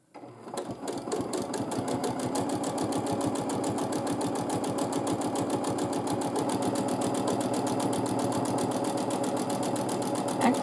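A sewing machine quilts layered fabric in a steady, fast stitching run, its rapid needle clatter holding an even rhythm close up for the whole stretch with no pauses.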